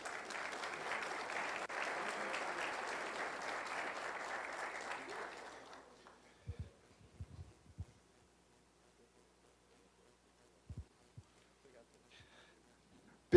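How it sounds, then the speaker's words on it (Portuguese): An audience claps steadily for about six seconds at a Pelé Project signing event in Curitiba. The applause then cuts to near silence, broken only by a few faint knocks. "Uma salva de palmas."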